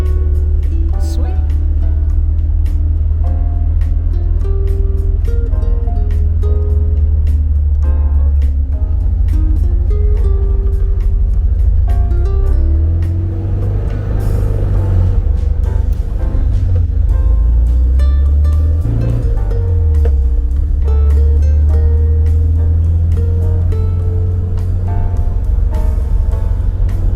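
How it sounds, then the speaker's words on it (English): A running 1970 Volkswagen Karmann Ghia on a drive, its steady engine drone and road rumble filling the cabin, the engine note rising and falling with shifts, with occasional voices inside. "We're going for a drive. First time in a Ghia that's actually running."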